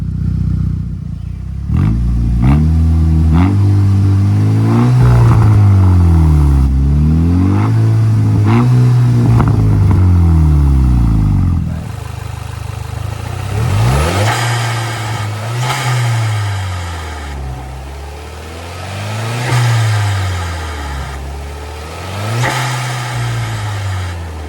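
A Mk6 fitted with a new intake revs repeatedly, each blip rising and falling in a loud, close series of throttle swells, with a short pause midway before another run of rhythmic revs.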